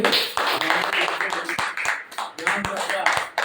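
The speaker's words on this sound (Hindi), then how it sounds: "हम चाहते हैं कि सभी जोरदार तालियों से" Audience clapping in welcome at an RCM meeting, heard as scattered, uneven claps mixed with voices and crowd noise.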